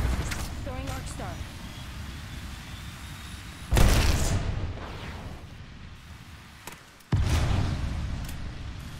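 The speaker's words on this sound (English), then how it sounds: "Throwing thermite grenade." A thermite grenade in Apex Legends goes off in two sudden booming bursts, one near the middle and one near the end, each followed by a roaring burn over steady in-game background noise.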